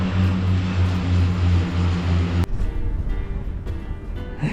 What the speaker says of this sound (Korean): 비행기도 자주 떠요.